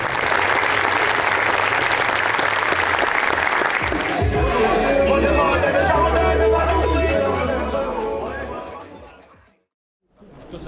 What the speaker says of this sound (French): J'espère une grande salve d'applaudissements